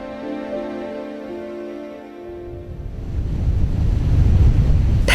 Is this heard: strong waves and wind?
yes